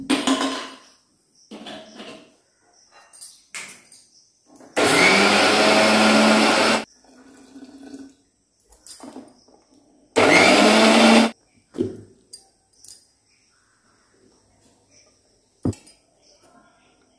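Kitchen mixer grinder grinding soaked rice for idli batter, two loud whirring bursts of a couple of seconds and about one second, between clinks of the jar, utensil knocks and talk.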